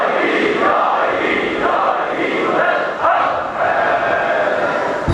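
A large congregation at a Muharram majlis in Shahdara, Lahore chants salawat loudly in unison, a dense sustained roar of many voices filling the space continuously with slight swells.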